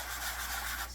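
Sandpaper rubs across an air dry clay piece in a brief, close, steady scratchy hiss that lasts about a second.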